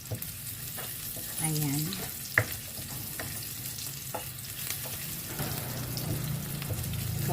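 Garlic sizzling in a little oil in a pan for chicken bistek, a steady crackling fry with occasional stirring scrapes and one sharp clink, while a voice speaks briefly over it.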